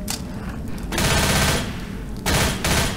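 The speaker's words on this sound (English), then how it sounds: "Machine gun!" Machine guns rattle in Left 4 Dead as a loud, sustained burst of rapid fire stops briefly and then resumes for a second close-range volley, with no talking.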